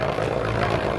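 A Twisted Tempo Beyblade is launched and spins, giving a loud, steady buzzing whir that holds evenly through one short second.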